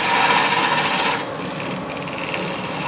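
Wood turning on a lathe with a gouge while hollowing a vase, a steady broadband rasping cut that runs continuously, softening slightly midway then carrying on, with no talk.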